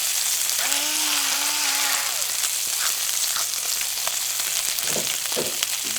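Food frying in a pan outdoors in the mangroves gives a steady, close sizzle throughout, with a few faint clinks and tonal squeaks partway through.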